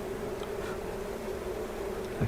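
A dense mass of honeybees swarms and buzzes as they are shaken off hive frames. The close, steady drone holds level throughout, with no voices over it.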